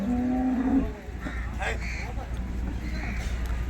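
A cow gives one short, low moo at the start at a cattle market, then a murmur of background noise and distant voices continues.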